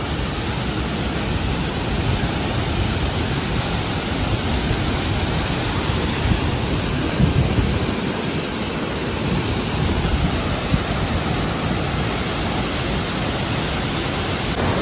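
Waterfall on a day trek near Rishikesh, India, a loud, steady broadband rush of falling water filling the whole scene without pause and with no voices.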